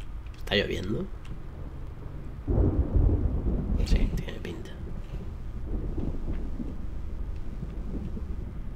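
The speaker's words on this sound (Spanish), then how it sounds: "Está lloviendo." Rain patters steadily in the video game Layers of Fear, with deep rumbles of thunder rolling in, loudest midway through, with occasional sharp crackles; a voice murmurs faintly at times.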